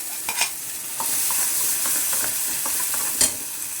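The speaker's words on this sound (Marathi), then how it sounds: "मसाला चांगला भाजून घ्यायचा" Spice masala for a green egg curry roasting in a pan while being stirred, a close, steady sizzle with spatula scrapes and taps, one sharper clatter near the end.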